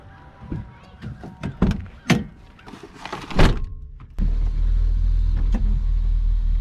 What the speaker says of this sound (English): Ooh, taking the Volvo.